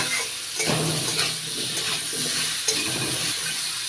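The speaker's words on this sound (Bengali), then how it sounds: "একটু নাড়াচাড়া করে ভেজে নিচ্ছি।" Potatoes stir-fried in a pan with turmeric and salt, a spatula scraping and turning them over a continuous close sizzle, with occasional light clinks.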